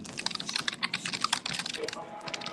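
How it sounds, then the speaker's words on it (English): Rapid computer keyboard typing fills the stretch with dense, irregular keystroke clicks, close and fairly loud, amid a live group stream, with no clear speech over it. "All right, who's typing? I can hear somebody typing."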